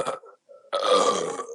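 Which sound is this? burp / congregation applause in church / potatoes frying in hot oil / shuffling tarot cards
burp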